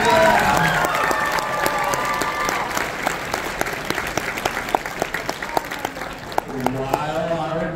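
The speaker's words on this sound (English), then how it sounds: "one more big round of applause for everybody competing in our masquerade" A crowd at a comic con cosplay masquerade applauds with loud, sharp, closely miked claps and some cheering, while voices talk over the applause as it gradually thins.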